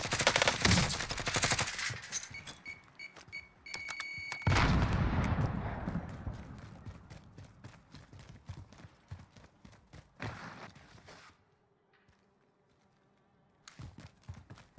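Rapid bursts of gunfire in the video game Warzone crackle and pop, dense at first, then thinning into scattered shots and a quiet pause before another burst.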